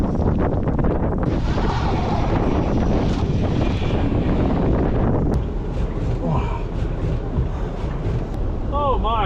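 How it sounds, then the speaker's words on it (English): Strong blizzard wind buffets the microphone outdoors on a snowy road, a loud roaring rush that fills the clip and eases slightly near the end, with voices talking over it. "Oh my, it's a little bit windy out there."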